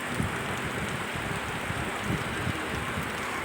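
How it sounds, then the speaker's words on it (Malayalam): Heavy rain falls steadily as a continuous, even hiss with low soft patter, fairly faint and unbroken by voices. "നല്ല മഴ"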